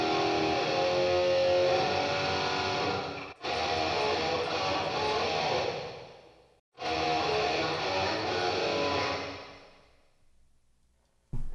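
Electric guitar through a BOSS Katana MK2 amp with plate reverb set to a 1.7-second decay: two sustained distorted chords, each ringing out and fading into a smooth reverb tail, with no talking.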